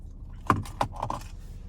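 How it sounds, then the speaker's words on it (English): A 2022 Nissan Maxima SR key fob with remote start jangles close by in a few quick metallic clinks over about a second, with no voices. "we have our key fob with remote start"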